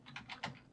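Quick bursts of typing on a computer keyboard while entering a line of Python code in Blender, a few clustered keystrokes close up and distinct, with no talking.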